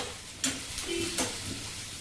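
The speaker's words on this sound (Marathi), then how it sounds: "टोमॅटो 2 चमचे तुपात आता आपण हे चांगलं व्यवस्थित भाजून घ्यायचं आहे" Carrot and tomato frying in two spoons of ghee for spiced rice, a soft, continuous sizzle with a couple of brief stirring scrapes close by.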